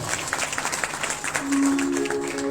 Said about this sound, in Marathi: एकदा त्यांच्यासाठी टाळ्या वाजवा सर्वांनी